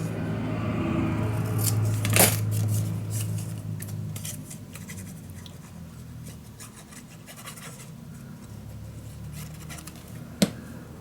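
Scissors trim a paper piece shorter for a Graphic 45 mini album, giving quiet snipping and rubbing close by, with a sharp snip near the start and another near the end.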